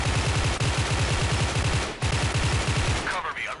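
Rapid bursts of M16A3 rifle fire from the Special Force 2 game, loud and close, with punchy shots in quick clusters, a brief gap near the middle and a fading tail at the end.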